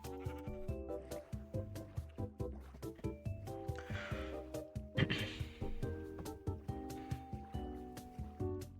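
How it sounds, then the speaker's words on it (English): Sheep in the video game Minecraft bleat in short repeated calls over game sounds near a shipwreck, with water noise underneath and no voices. "I guess I can kill some sheep."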